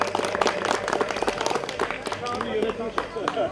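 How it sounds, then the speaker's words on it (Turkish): Audience applause at a village spring festival in Ceyhanlı, Turkey: dense, uneven clapping from a crowd, moderately loud, mixed with crowd chatter and a voice over a loudspeaker. "Kuvvetli alkışlarınızla."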